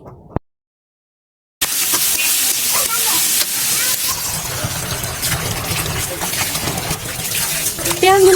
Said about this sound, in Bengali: ওই কড়াইতে আমি এখন মাংস কষানোর জন্য পেঁয়াজ ভেজে নিচ্ছি